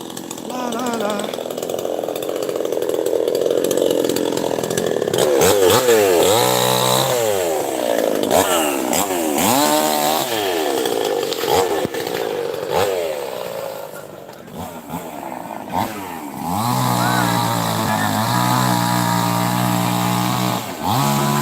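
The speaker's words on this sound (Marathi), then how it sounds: "इकडे आता कटर मशीन घेऊन गावातील काही मंडळी झाड कापण्याचा प्रयत्न करत आहे" A chainsaw run by village men cuts a tree felled by a windstorm in Balde village. The engine drones loudly and continuously, rising and falling in pitch as it bites into the wood, with voices talking over it.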